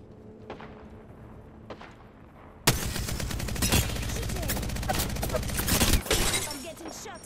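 Apex Legends gunfire: after a few quiet shots, a loud, sustained burst of rapid automatic fire with sharp, dense reports runs for about three seconds, then cuts off.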